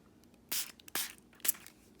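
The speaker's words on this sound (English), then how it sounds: "But if I spray water on my penguin with the wax from the crayon" Three short hissing bursts from a spray bottle misting water onto a wax-coated paper penguin, each spritz sharp and close, spaced about half a second apart in a quiet room.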